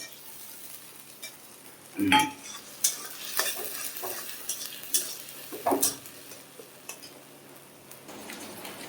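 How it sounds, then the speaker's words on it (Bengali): Ginger and green chili paste with tomato frying in a pan with onion, heard as a close sizzle broken by repeated spoon stirs and scrapes against the pan. "আদা আর কাঁচা লঙ্কা বাটা দিয়ে দিলাম বাটা মানে পেস্ট দিয়ে দিলাম আর একটা টমেটো দিয়ে দিলাম আমি"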